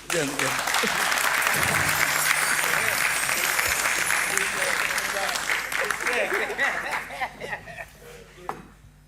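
Loud audience applause at a reggae music event, a dense sustained roar of clapping with some cheering that gradually thins out and tapers off toward the end.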